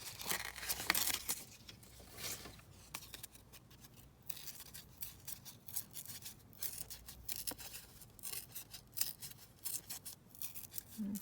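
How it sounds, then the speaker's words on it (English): A page being torn out of a book for a junk journal, close, quiet ripping and rustling paper in repeated short pulls and crinkles over about ten seconds, no speech. "Let's just try tearing this one out."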